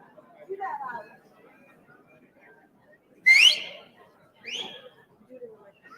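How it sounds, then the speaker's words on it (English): A person whistles into a microphone at a live public event, short rising whistle bursts amid crowd chatter and talking, moderately loud against a quiet room. "Whistle in this microphone."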